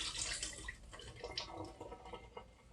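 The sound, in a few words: dumping out water from soaking cut potatoes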